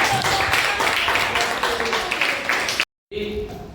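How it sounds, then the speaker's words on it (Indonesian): A class applauds after a group's persuasive speech presentation, steady clapping running for nearly three seconds before a brief cut, then resuming with voices underneath. "Kita beri tepuk tangan dulu."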